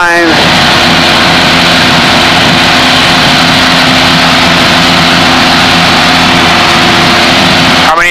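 A small training airplane's engine roars at full throttle during takeoff on a private pilot lesson, a loud, steady, close drone with a constant tone throughout.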